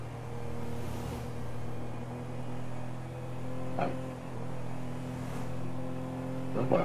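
A minivan engine drones steadily while driving in GTA V, a low humming tone with gentle swells in loudness and a few brief knocks or bumps.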